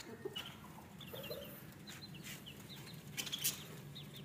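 Chickens clucking in a cage area near grass put out for rabbits, several soft, close clucks and brief squawks scattered over a low background, with a little wing flapping.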